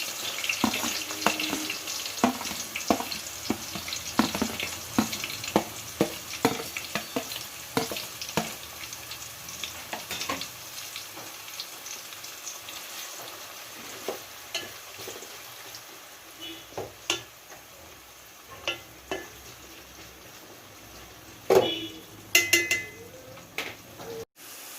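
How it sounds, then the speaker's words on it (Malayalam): Onions fry in hot oil for a fish biryani with a steady sizzle and occasional stirring scrapes, crackles thinning out over time, close and moderately quiet with no talking. "ഇനി നമുക്ക് ഉള്ളി പൊരിച്ചെടുക്കാം."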